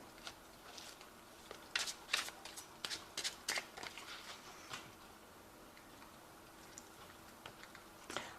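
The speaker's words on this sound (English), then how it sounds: "I have shuffled this deck," A tarot card deck being shuffled and handled in bursts of soft riffling and tapping clicks, faint and close in a quiet room, with no talking.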